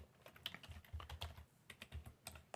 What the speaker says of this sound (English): we'll start by typing the New-ADUser command